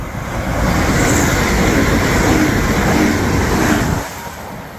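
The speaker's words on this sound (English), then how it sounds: "As passing through here is about to be a Class 180, Grand Central." A Class 180 Grand Central diesel train passing through Peterborough station on the East Coast Main Line, a loud rushing roar that swells in and holds for about four seconds before dropping away abruptly.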